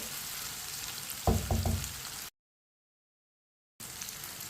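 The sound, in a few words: okra dish with tomatoes and green chilli frying, spoon stirring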